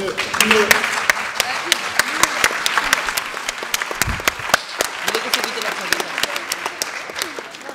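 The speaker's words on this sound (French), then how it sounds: "je vous demande un autre tonnerre d'applaudissements" An audience at a school music concert at the Lycée Français International in Murcia gives a sustained round of applause, a dense crackle of many hands clapping steadily throughout, with a voice heard briefly over it.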